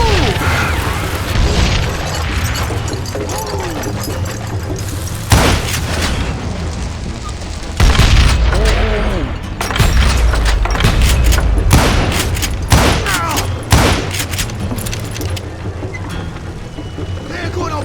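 Gunfire in the Xbox 360 game Call of Juarez: Gunslinger: loud, dense volleys of shots and heavy booms in rapid irregular bursts, with voices and steady game ambience underneath.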